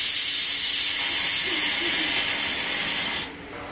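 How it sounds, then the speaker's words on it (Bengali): Steady loud steam hiss from a pressure cooker cooking khichuri in a home kitchen. The hiss runs continuously, then drops sharply near the end. "ওদিকে কিন্তু প্রেসার কুকারে খিচুড়ি হচ্ছে"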